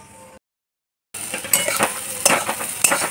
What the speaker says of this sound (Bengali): আলু পেঁয়াজ সব ভাজা ভাজা হয়ে গেছে,